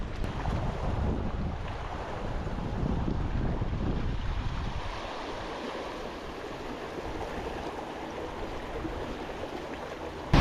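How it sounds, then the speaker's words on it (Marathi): Wind blowing over a lake during an evening fishing outing, a steady broadband rush with gusty low rumble that eases after the first few seconds, continuous and fairly close, with no voices. "पण जसं आधी म्हणालो वारा थोडा जास्ती आहे"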